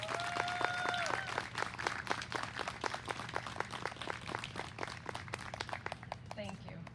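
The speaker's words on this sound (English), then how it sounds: "Let's give our hardworking students a round of applause too." Audience applause for fifth graders at a school moving-up ceremony: steady, dense clapping that fills the room for several seconds, with faint talk underneath.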